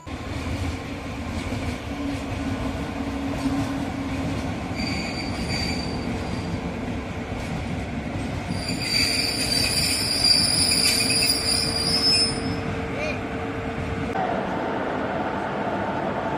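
An electric train hauled by a WAP-1 locomotive rolls past close by with a steady rumble, high metallic wheel squeals rising midway, and a continuous roar throughout.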